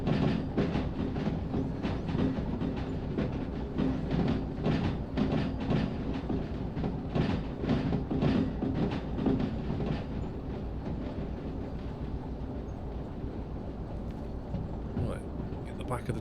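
A train in the video game Derail Valley rolls along the rails with rhythmic clickety-clack, steady and close, gradually easing slightly in the final seconds.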